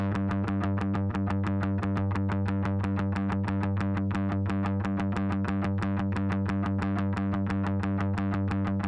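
A blue PJ Mustang bass with a little crispy, crunchy distortion added plays a dense, steady pulsing line of rapid repeated notes, loud and continuous for the whole stretch.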